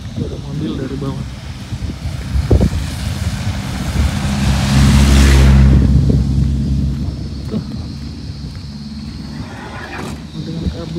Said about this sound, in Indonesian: ada mobil dari bawah.